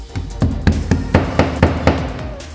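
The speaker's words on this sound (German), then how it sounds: "Am besten nimmst du für den Dübel einen Hammer." Wall plugs are hammered into a wall while a go-e wallbox charger is mounted, giving a series of about eight sharp, evenly spaced taps close by, with no voices.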